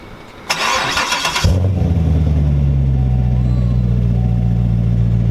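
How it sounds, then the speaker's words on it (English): A C7 Corvette Stingray fitted with an MBRP exhaust fires up for the first time: a loud starter whir, then the engine catches with a sharp bark and settles into a deep, steady, rumbling idle close by. "So here's your first fire up of the MBRP C7 Corvette exhaust."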